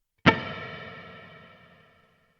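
A single guitar note or chord is struck through a Meris Mercury X reverb set to low pre-delay, so the wash starts at the same moment as the attack and decays smoothly over about two seconds, alone and moderately quiet.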